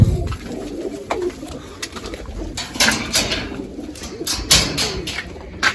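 Pigeons coo softly and repeatedly nearby, low throaty calls over rustling and occasional fluttering.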